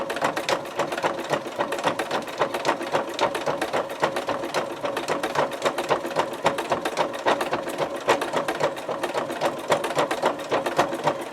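A household sewing machine stitches a lace-trimmed purse organizer, running steadily and continuously with a rapid rhythmic mechanical whir and clatter, close and loud throughout with no talking.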